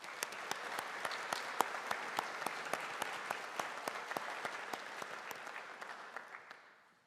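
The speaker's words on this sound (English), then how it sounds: "Let's give them all a round of applause." Audience applause at a graduation ceremony, steady crisp clapping with distinct individual claps standing out, moderately distant and tapering off at the end.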